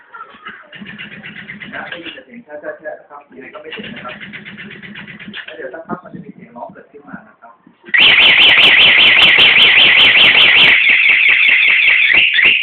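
Anti-theft alarm on a Honda PCX 125i scooter: first a few soft warbling chirps with someone talking over them, then a loud continuous piercing siren that suddenly blares up close and holds steady.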